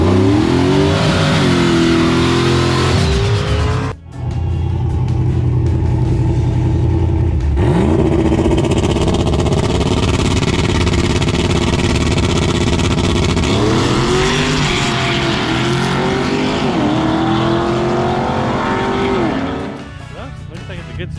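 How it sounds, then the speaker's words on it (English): A race car with a new engine revs and roars through repeated gear shifts on the track at Immokalee Raceway, loud and close, with tires squealing at times and voices talking over it. "this is Charlie's first time on the track in this new engine"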